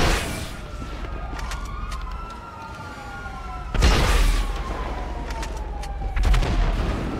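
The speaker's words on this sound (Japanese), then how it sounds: "レギオン方面に向かってパトカー出ました一台。" Police car sirens in a GTA roleplay riot scene, wailing tones sweeping up and down across the clip, joined by sharp bursts of gunfire or impacts near the middle and end, with no talking.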